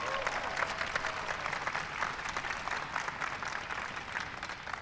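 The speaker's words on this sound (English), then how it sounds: "Give him a big round of applause." An audience at a stargazing night event gives a steady round of applause, a dense patter of many hands clapping at moderate distance that holds evenly throughout without talk.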